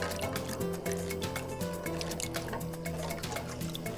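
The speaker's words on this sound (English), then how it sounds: "So just stir in a cup of 1/2 and 1/2." Half and half poured and stirred into a textured pureed pumpkin soup, giving a steady liquid trickle and soft sloshing that runs close and continuous, with no talking over it.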